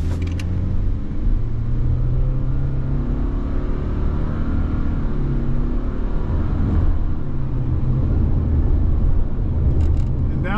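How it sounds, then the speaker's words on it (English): A 2024 Subaru Crosstrek Premium with its flat-four engine pulls away from a stop, a steady low engine drone with gradually rising tone blended with tire and road rumble, heard from inside the cabin, smooth and unhurried. "Now we're going to put it in S drive and we're going to take off."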